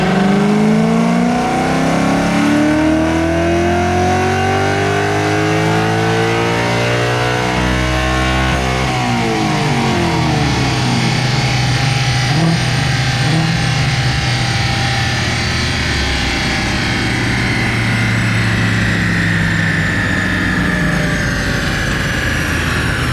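A Gen 1 Coyote V8 swapped into a Foxbody Mustang running E85 revs loudly and continuously, climbing through the rev range toward 7,700 rpm with a rising, droning exhaust note, close and with no talk.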